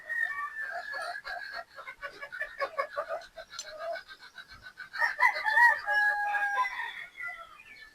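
Gamefowl pullets, a three-quarter Sweater and one-quarter Boston cross, cluck and chatter close by on a game farm, a steady busy flock with a few louder calls near the end, and someone talking among them.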